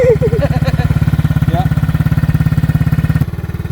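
Tao Boulder engine idling and given a little gas, a near, loud, rapid pulsing putter that holds steady, with brief speech over the start.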